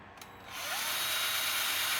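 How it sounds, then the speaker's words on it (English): A drill bores into the metal part of a water pump seal on a Toyota 2JZ-GE engine during timing belt work, starting after a brief pause and then running as a steady, close, high-pitched whine. "So I'm going to drill this hole and then try to get a screw in here."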